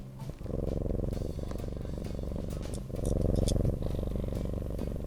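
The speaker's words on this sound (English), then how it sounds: "Can you hear Dusty purring?" A cat purrs steadily and loudly right up close, a continuous rhythmic rumble with a slight swell partway through.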